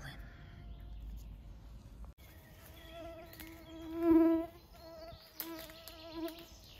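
Mosquitoes and other insects whine and buzz around a person gathering mushrooms in a forest, thin droning tones rising and fading close by, with one louder pass near the middle.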